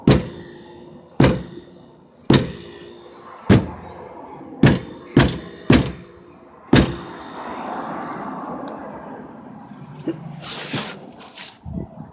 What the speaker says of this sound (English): Let's bang on the